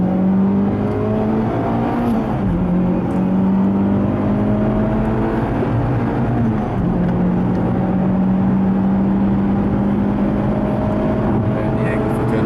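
A Formula 3 race car runs flat out down a straightaway, its engine a loud, close, sustained high-revving drone with a steady pitch that barely wavers for the whole stretch.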